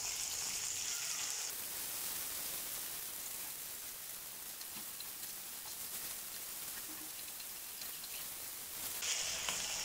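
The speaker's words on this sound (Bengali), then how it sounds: "একই তেলে আমি চিকেনগুলো দিয়ে দিলাম। চিকেনগুলো আমি বেশি ভাজবো না, হালকা ভেজে উঠিয়ে নেব।" Chicken pieces fry briefly in hot oil left in a pan, giving a steady, dense sizzle that runs unbroken throughout at moderate level, with no voices.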